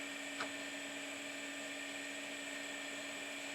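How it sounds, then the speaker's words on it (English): A band tool cutting a one-inch tenon on the top of a wooden stool leg on a lathe gives a steady high whine with a constant tone and no talk over it. "I'm going to put a tenon on the top of the leg, 1 inch long and 1 inch in diameter with a band tool."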